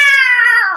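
A person's voice imitates a cat's meow: a single drawn-out, falling, tonal mew lasting under a second, close and clear.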